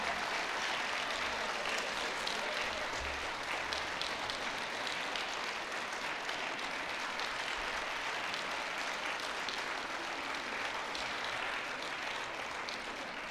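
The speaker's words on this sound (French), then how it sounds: "Applaudissons nos diplômés." A graduation ceremony audience applauds its graduates with steady, dense clapping that fills the room without a break, loud and sustained throughout.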